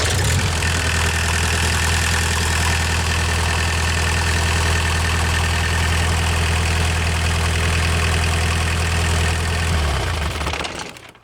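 A Mercedes diesel engine on a trailer-mounted power unit idles steadily and loudly with a deep, even rumble for about ten seconds, then shuts down and winds to silence.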